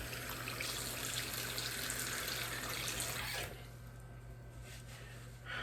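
A faucet runs steadily into a sink as a continuous broadband hiss, loud for about three and a half seconds, then softer and thinner until the flow swells again briefly at the end.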